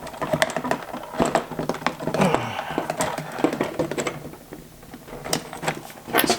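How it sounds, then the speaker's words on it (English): Plastic clicks and scraping sounds come from a temperature sensor being pried off a fuel pump on an Infiniti Q50/Q60, in a series of close, irregular taps and creaks with no talk. "To take off this sensor, we're just going to pry it out."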